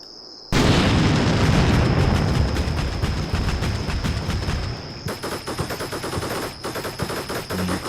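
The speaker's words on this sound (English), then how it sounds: "Ukrainians called for a nuclear missile strike." A nuclear missile strike hits in Combat Mission Black Sea, a sudden loud blast that rolls into sustained crackling, rattling detonations like heavy gunfire, continuing for several seconds without voices.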